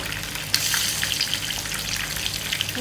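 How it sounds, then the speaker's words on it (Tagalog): A pot of sinigang soup with salmon bubbling and hissing steadily at a vigorous boil, a continuous bright crackle close up with no voices. "Ayan, kumukulo na."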